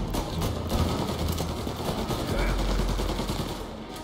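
Rapid bursts of gunfire crackle in the Mafia Definitive Edition video game, dense and close, with brief gaps and a low rumble underneath.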